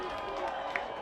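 Crowd at Hampshire Field cheering after a girls' high school soccer goal, a steady distant roar with scattered claps and a voice talking over it.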